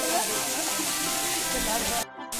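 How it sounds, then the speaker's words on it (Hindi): A waterfall pouring beside a Mata temple near Jaipur, giving a loud, constant broadband rush that cuts off abruptly near the end. "तो ये देखिए पीछे का व्यू यहाँ पर कितना प्यारा झरना बह रहा है।"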